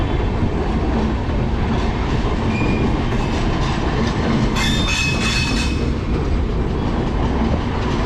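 Indian Railways express train pulling into Kishanganj station, a steady loud rumble of wheels and coaches rolling past with rhythmic clatter and a brief squeal of wheels partway through, no voices.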